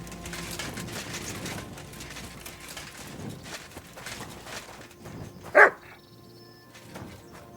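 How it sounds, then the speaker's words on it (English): A dog barks in the video game Kingdom Come: Deliverance II, with a single sharp, loud bark standing out over a bed of quieter ambient game sound and scattered low thuds. "Barking."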